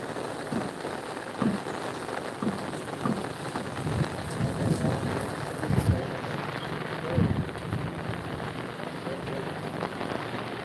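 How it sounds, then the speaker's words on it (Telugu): Heavy rain in a village pours steadily in a dense, constant hiss, with occasional dull thumps of drops hitting nearby surfaces. "ఇప్పుడు వరకు అయితే తక్కువ ఉన్న వర్షం ఇప్పుడే ఎక్కువైంది"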